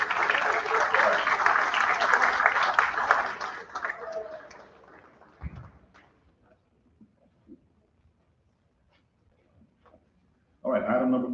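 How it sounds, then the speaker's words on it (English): An audience at a school board meeting applauds athletes' parents, a few seconds of steady clapping that fades to near silence, then a voice speaks near the end. "we're going to give you a round of applause as well"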